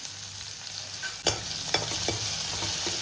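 Onion and chilli sizzle steadily in a pan for a breakfast tempering, with several distinct spatula scrapes and knocks against the metal as the mix is stirred.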